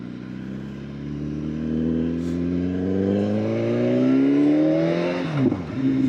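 A 2016 BMW S1000RR Gen 3 sport motorcycle engine revs up in a smooth climbing whine that peaks after about five seconds and then drops off, heard alone without talking.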